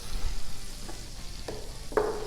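Asparagus sizzles in melted butter on a Blackstone griddle, a steady close hiss with a few brief scrapes and taps from a utensil, and no talking.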